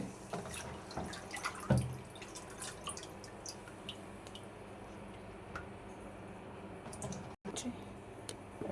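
Snails being rinsed by hand in clean water in a basin, scattered drips, soft squishing and small splashes over several seconds, close and fairly quiet with light background noise.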